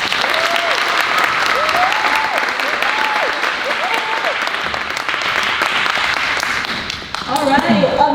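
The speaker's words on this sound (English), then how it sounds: "So, round of applause for Elena McCormick." Loud, sustained audience applause at a show choir cabaret, dense clapping throughout with some cheering or voices mixed in and a brief surge near the end.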